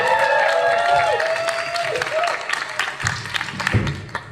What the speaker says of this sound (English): Can we get a big round of applause for the Panda Red?